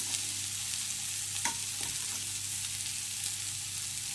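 Ingredients for a drumstick-leaf saaru dry-roasting in a pan, a steady even hiss with one or two faint scrapes, close and continuous without any talk.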